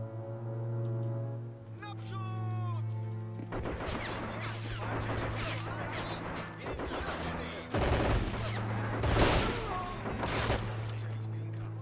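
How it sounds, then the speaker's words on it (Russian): Sniper rifle shots in the Warsaw Uprising scenario of the war game Assault 2, sharp cracks scattered over a steady droning hum, with a voice speaking between bursts. "Так, наш снайпер стреляет."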